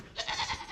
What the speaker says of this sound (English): Hear them goats a-goatin'.